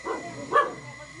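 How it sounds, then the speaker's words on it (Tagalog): A single sharp dog bark stands out close by, with a softer yelp just before it, alone against a quiet background. "Nagalit ang aso."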